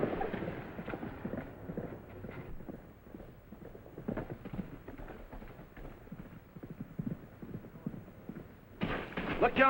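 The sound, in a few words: horse hooves clip-clopping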